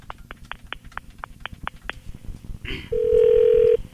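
A telephone call being placed: a quick run of about nine dialing tones, then a brief click and a steady, loud tone, with faint background noise throughout.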